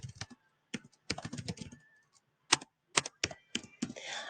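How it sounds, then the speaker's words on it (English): Fingers typing on a computer keyboard, with quiet key clicks in irregular clusters separated by short pauses and no talk over them. "I'm sure you're thrilled watching me type."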